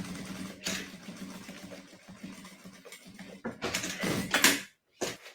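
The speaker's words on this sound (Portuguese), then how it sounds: "Entra na máquina e passa a costura e passa o viés" A sewing machine stitches a seam and bias binding on a fabric box pouch. Its whirring mechanical runs stop and start close by, with a louder burst near the end before a brief silence.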